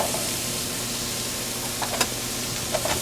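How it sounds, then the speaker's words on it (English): Onions, chopped garlic and carrots frying in a pot: a steady close sizzle and hiss throughout, with a few light stirring clicks near the end. "Cook the vegetables for about 5 minutes, stirring from time to time"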